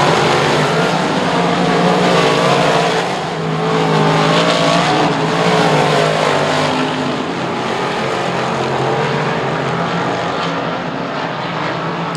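Sprint cars race around Lernerville Speedway, a dirt oval in western Pennsylvania, their engines blending into a loud, continuous roar that rises and falls slightly as the pack passes and strings out around the track.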